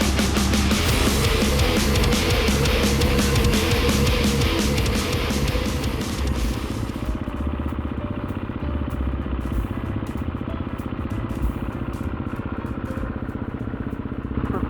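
A motorcycle crawls along as slowly as possible with delicate throttle, its steady low engine rumble close and continuous, harsh and loud at first, then smoother and duller after about seven seconds.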